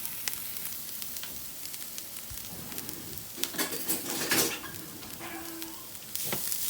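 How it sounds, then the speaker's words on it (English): Defrosted frozen coconut dry roasting in a very hot pan gives a continuous close crackling sizzle, with scattered scrapes and clinks of a utensil stirring it against the metal. "So what I'm going to do is dry roast the coconut, the frozen coconut, which I've defrosted."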